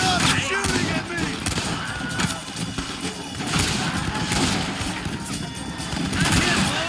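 Gunfire crackles through a Red Dead Redemption shootout, dense repeated shots and bursts that stay fairly loud and steady, with voices shouting over the fighting.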